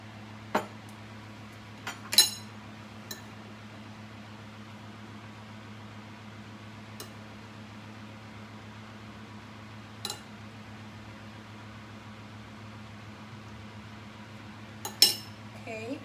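Sparse clinks of dishes and cutlery as braised babi pongteh is plated, a few sharp taps spaced across a steady low hum from a kitchen appliance, with no talking.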